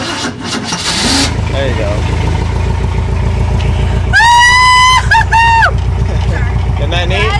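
A one-owner 1970 Ford truck that has been parked for 22 years cranks with a whirring starter, fires up and settles into a loud, close, steady idle. A voice speaks briefly over the engine.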